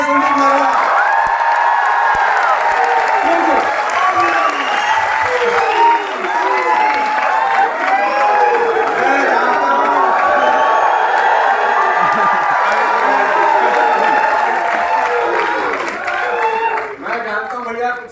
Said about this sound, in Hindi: संदीप जी, जोरदार तालियां संदीप महाराज